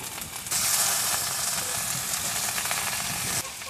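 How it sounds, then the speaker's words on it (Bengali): Ginger, cumin and coriander pastes fry with chopped tomato in a pan for a village-style egg curry, making a loud, steady, close hissing sizzle that starts abruptly and then cuts back down. "ধনে বাটা, সব মশলাগুলো ভালো করে কষে নেব।"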